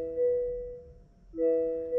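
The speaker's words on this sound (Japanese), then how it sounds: "バックギアに入れた音はこんな感じで、" Reverse-gear warning chime in a 2022 Honda Odyssey: a clear two-tone electronic beep that sounds, falls silent for about half a second, then sounds again, close and steady with no talking.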